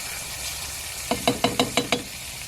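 Beans frying in a pan on a hot tent stove give a low, steady sizzle, broken by six quick, evenly spaced scraping knocks of a utensil against the pan.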